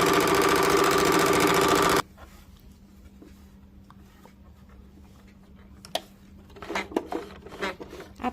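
A sewing machine runs loud and steady for about two seconds while double stitching a churidar, then stops, leaving a faint hum and a few soft handling taps.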